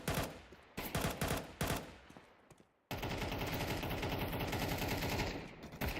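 Rapid automatic gunfire from a Counter-Strike match, loud bursts of shots with short pauses, then a sustained stretch of continuous firing.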